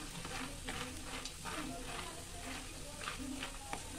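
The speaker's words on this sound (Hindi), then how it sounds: "मखाने जो है इस तरीके से घी में इसको फ्राई कर लेंगे।" Fox nuts (makhana) fry in ghee in a pan, a steady close sizzle with scraping strokes as they are stirred.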